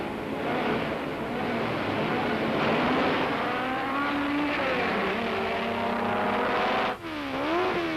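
Honda Grand Prix race cars from 1966 scream past at high revs, engine notes sweeping up and down as they race closely together, loud and continuous with a sharp pitch drop near the end.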